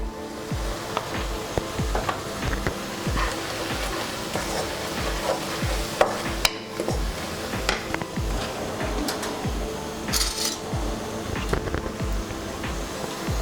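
Onions and turmeric frying in a pan for a sand fish curry, a continuous sizzle with repeated scraping and knocking of a spoon stirring, close and busy.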